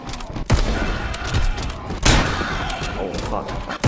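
A Wz. 35 sniper rifle in COD: WWII Zombies fires two sharp, loud shots about a second and a half apart, each trailing off under a dense bed of game noise.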